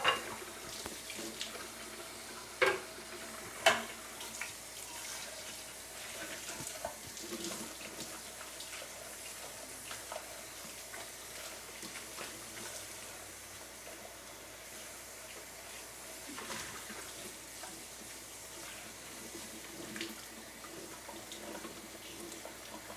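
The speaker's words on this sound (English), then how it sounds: "Okay, I'll keep washing then." Tap water runs steadily into a sink while something is washed under it, a continuous soft hiss with a few small clunks and splashes near the start, and no talking.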